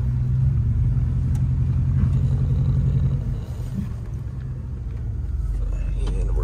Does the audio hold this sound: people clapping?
no